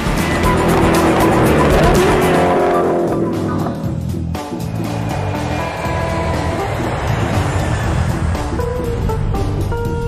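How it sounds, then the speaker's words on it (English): A 1140-horsepower Koenigsegg Agera R supercar is driven hard on a racetrack or runway. The engine note climbs loudly, drops with a shift and then pulls again as the car passes close at speed. "drive their Agera R to the limit on the racetrack and on their own private runway"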